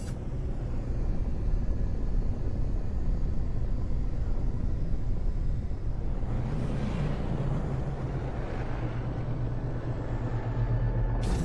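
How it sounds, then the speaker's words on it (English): A storm rolls in on a planet in No Man's Sky, a steady loud roaring wind rumble that swells into a brief gust near the middle and holds constant to the end, with no voices. "Incoming storm, you say?"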